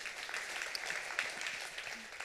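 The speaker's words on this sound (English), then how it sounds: "round of applause." A panel audience applauds in a steady, even patter of many hands, fairly faint and distant, sustained without pause through the whole short stretch.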